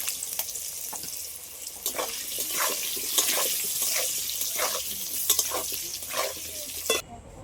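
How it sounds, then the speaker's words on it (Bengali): Potato pieces seasoned with salt and turmeric fry in hot oil, a steady sizzle broken by repeated scraping stir strokes and a brief clatter near the end. "আলুগুলো একটু ভেজে নেব।"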